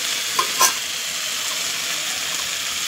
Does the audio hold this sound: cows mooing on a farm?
no